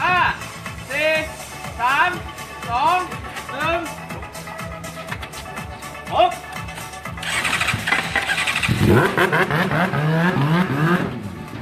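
A Honda racing motorcycle revs in repeated rising bursts during a pit demonstration for a Suzuka 4-hour race team, then roars louder and steadier as it comes in close, with people talking throughout.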